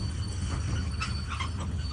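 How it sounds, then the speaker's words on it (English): A train runs with a steady low rumble and faint metallic squeals and rattles, quiet and continuous throughout. "Train time, let's go"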